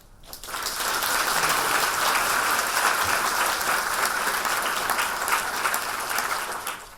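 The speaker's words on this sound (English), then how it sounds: "please join me in welcoming Dr. Allan Zeman with a big round of applause" A lecture audience gives a big round of applause to welcome a guest speaker, loud sustained clapping that starts abruptly and carries on evenly throughout.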